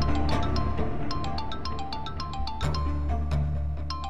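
A phone ringtone plays a quick run of bright chiming notes over a low background hum, fairly soft and steady.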